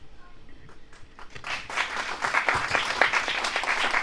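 An audience at a stand-up paddleboard foundation launch event breaks into applause, starting faint and swelling into steady, dense clapping over a few seconds.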